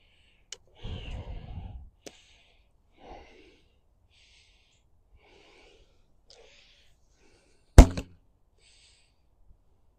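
A board self-bow with narrow limbs looses an arrow during a chronograph session. There is a sharp, loud thwack with a brief twang, preceded by faint handling clicks and a soft rustle.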